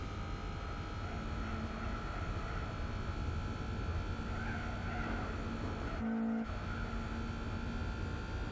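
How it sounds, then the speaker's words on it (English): A roughly 200-horsepower car in Gran Turismo 4 drones at a steady high pitch throughout, with a sustained engine whine and a brief dropout near the end, no voices over it. "200 horsepower in a car powered by a blender engine."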